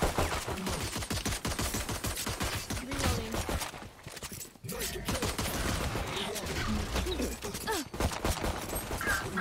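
Rapid bursts of automatic gunfire in a first-person shooter video game, dense and continuous with a brief lull midway, loud throughout with faint voices underneath.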